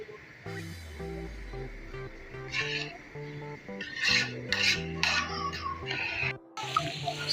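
Rice for mutanjan is stirred gently in a pot, giving soft repeated scraping and rubbing close by, under a steady stepping background melody.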